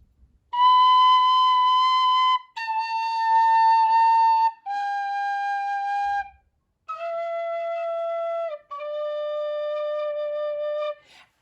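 A low D tin whistle plays five sustained low notes, each held about two seconds, stepping downward in pitch with short breaths between them, clear and close.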